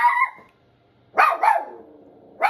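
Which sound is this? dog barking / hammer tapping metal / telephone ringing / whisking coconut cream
dog barking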